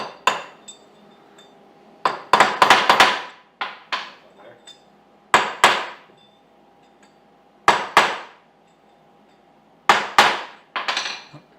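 Repeated sharp metallic hammer blows in quick clusters, driving a bearing race into place on a 1975 Johnson 25hp outboard motor, each group of strikes separated by pauses, ringing briefly with a clanging, close-up tone.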